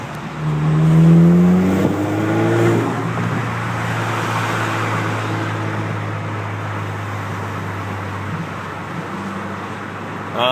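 A car with a muffler-delete custom exhaust roars under full-throttle acceleration, its loud, raspy exhaust rising in pitch through the first couple of seconds, then holding a steady, gurgling drone.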